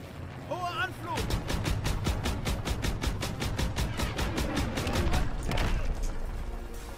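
Rapid bursts of gunfire in a World War II Call of Duty game, a dense rattling volley of evenly spaced shots over a low rumble, with a short whistling tone at the start.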